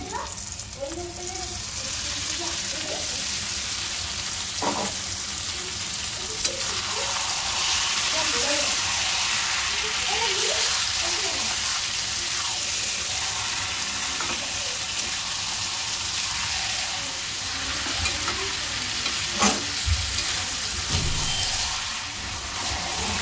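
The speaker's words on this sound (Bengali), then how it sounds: "আমি এখন মাংসটা দিয়ে দিচ্ছি।" Free-range chicken meat frying and being stirred into spice masala over a village cooking fire, a steady loud sizzle with scattered scraping and clinks of the spoon throughout.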